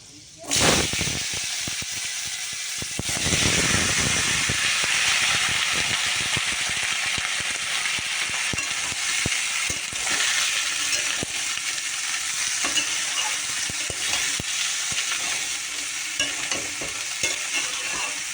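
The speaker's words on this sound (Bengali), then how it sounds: "তেলে আমি শুকনো লঙ্কা ফোড়ন দিয়েছি আর দিয়ে দিলাম পাঁচ ফোড়ন" Dry red chillies and panch phoron spit and sizzle in hot oil for a Bengali fish curry, a loud sputtering burst right at the start that settles into a steady, close hiss with occasional pops and stirring scrapes.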